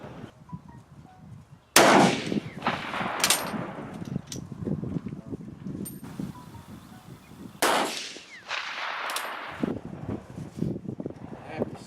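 Swiss 1935 K31 rifle fired at a target outdoors, several loud sharp cracks spaced seconds apart, each with a short echoing tail, over wind noise and faint background voices.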